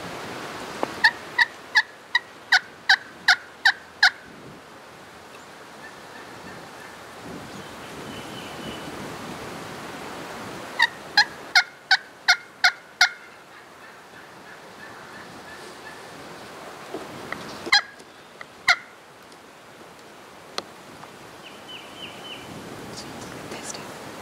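A wild turkey gobbler gobbles outdoors in clustered bursts of rapid sharp calls, repeated after pauses over a soft steady background hiss, fairly distant and clear.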